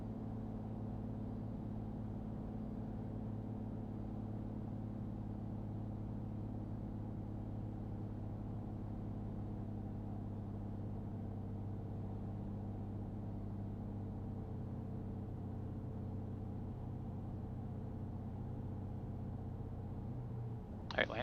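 A Citation 525 jet landing and rolling on an icy runway, heard from inside as a steady droning engine hum and rumble that stays constant throughout, ending with a brief sharp knock.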